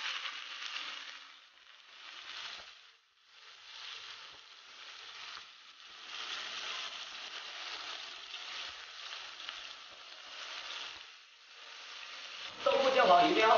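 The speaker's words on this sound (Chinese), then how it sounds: "油热后把豆腐放进去煎" Tofu pan-frying in hot oil in a wok for a braised prawn, enoki and tofu dish, giving a steady, close sizzle that dips briefly a few times and ends with a louder, crackling burst.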